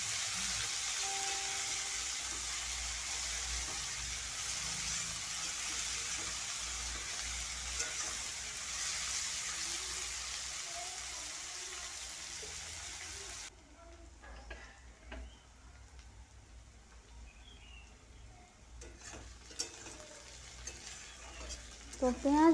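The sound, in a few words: chopped onions frying in oil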